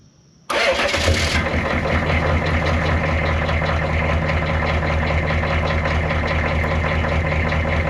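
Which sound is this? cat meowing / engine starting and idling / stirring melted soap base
engine starting and idling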